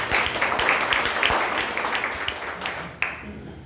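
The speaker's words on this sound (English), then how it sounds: "Can you have a round of applause for this?" Audience applause at a public-speaking session, a dense burst of clapping from a room of people that fades slightly over a few seconds.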